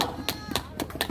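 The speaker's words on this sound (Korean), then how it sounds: "박수." At an outdoor protest rally in front of Korea's National Election Commission, a few sharp, distinct hand claps ring out in an irregular rhythm, close and fairly loud, mixed with bits of speech.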